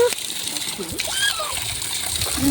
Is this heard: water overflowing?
yes